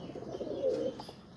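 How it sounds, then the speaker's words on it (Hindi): Pet pigeons coo softly, one low throaty coo swelling in the middle of the brief clip, close by, with a faint chirp near the end. "चलो पहले ये देखते हैं कबूतर"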